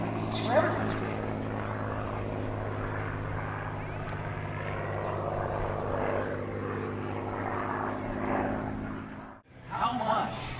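A WWII warbird propeller plane flies an eight-point roll along the beach at the Bethpage Air Show at Jones Beach. Its engine drone carries continuously under a loud announcer's voice, dipping briefly near the end before rising again.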